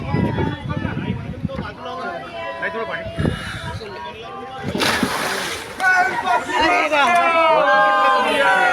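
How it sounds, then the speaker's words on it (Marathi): Water splashes and sloshes in bursts amid a noisy crowd at a Ganesh idol immersion, with people shouting and talking over the splashing. "पाणी उडवते आता हे पाणी उडवते"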